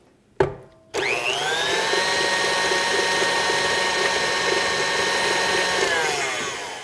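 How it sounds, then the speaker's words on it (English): Electric mixer switched back on after a knock, running in a steady, loud, even whir for several seconds before winding down slightly at the end. "Back into the center and start your mixer again."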